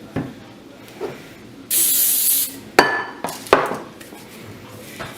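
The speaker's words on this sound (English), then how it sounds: "I need a little bit more spray." A sustained hissing burst of cooking spray onto hot dough lasting under a second, followed by a few sharp clinks and knocks against a quiet background.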